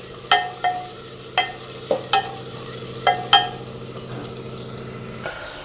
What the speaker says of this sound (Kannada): ಈರುಳ್ಳಿ ಚೆನ್ನಾಗಿ ಫ್ರೈ ಆಗುತ್ತೆ. ಇದು ಬ್ರೌನ್ ಕಲರ್ ಆಗೋವರೆಗೂ ನಾವು ಫ್ರೈ ಮಾಡ್ಕೋಬೇಕಾಗುತ್ತೆ.